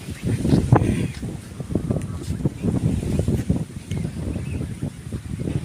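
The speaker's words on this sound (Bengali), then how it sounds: "কি বাতাস হইতেছে" Strong wind gusts across open rural countryside in Bangladesh just before a cyclone, roaring and buffeting the microphone in uneven surges, with someone talking excitedly over it.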